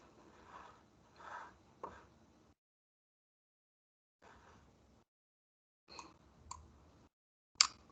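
Keyboard typing during an online meeting recording, faint scattered clicks in short bursts separated by silent gaps, ending with a sharper, louder click.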